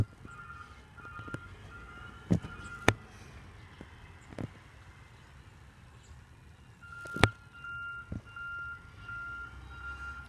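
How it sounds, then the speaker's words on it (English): Garbage truck reversing in a residential neighborhood, its backup alarm beeping steadily at a distance over low engine rumble, with a few sharp clanks and bangs. "I think I hear the other trash truck in Jesse's neighborhood."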